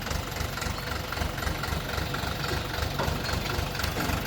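Fruit harvesting machine engine running at a steady idle, a continuous rumbling drone with slight knocking texture, close and constant throughout with no talking.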